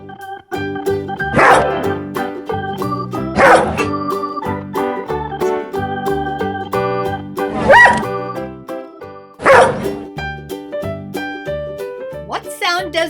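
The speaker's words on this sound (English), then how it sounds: "What sound does a dog make? Woof!" A dog barks four times at evenly spaced intervals, sharp single woofs standing out over a steady bed of background music, with a faint higher yip near the end.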